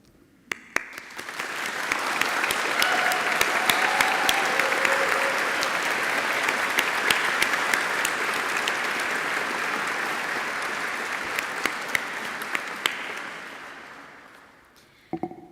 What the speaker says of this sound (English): I'd like us to also applaud and remember them